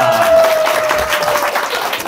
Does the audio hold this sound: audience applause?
yes